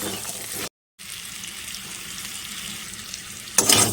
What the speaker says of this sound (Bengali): লাল করে ডিমগুলি ভেজে তুলে নেব